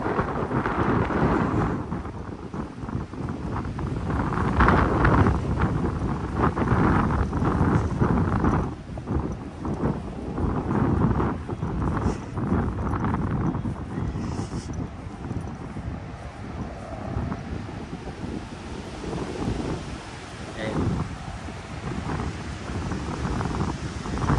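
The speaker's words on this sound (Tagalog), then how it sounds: "Malamig na, malakas pa yung hangin." Strong cold spring wind buffets the microphone in a wide park in New Zealand, a loud gusty rumble rising and falling continuously throughout.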